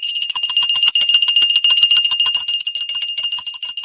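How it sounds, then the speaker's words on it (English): A bell is rung to celebrate a stock price move, with a loud, rapid, continuous clanging that rings steadily for several seconds with no talking. "We got to ring the bell for that one."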